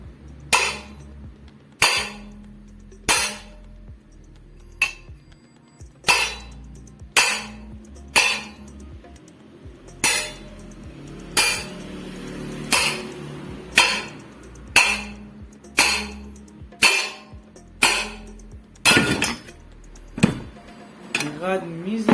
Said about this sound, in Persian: به کمک یک چکش بلبورینگ رو میگیریم.